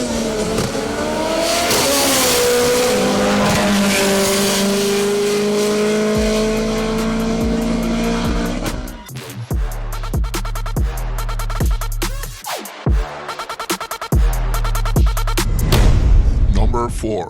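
An AWD drag car at Vernamfield, Jamaica, roars loudly, its engine note climbing through the gears, then rapid sharp bangs and crackles follow as it pulls away down the strip.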